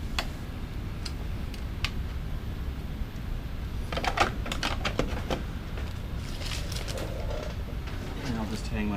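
Small screws being tightened into Gigabot 3.0 3D printer wiring, giving soft irregular ticks and clicks that come in scattered bursts, denser toward the middle and end, over a low background hum.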